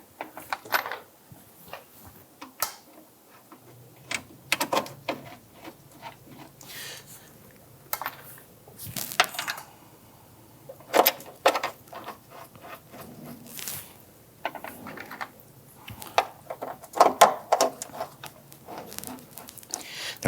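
Three screws being fitted to a front door lock actuator on a 1999-2004 Jeep Grand Cherokee, heard as scattered close clicks, scrapes and rubbing handling noises in uneven bursts.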